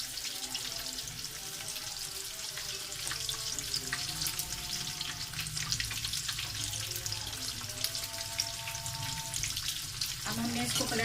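Fish fillets frying in oil in a pan, a steady close crackling sizzle with scattered sharper pops that carries on unbroken for about eleven seconds.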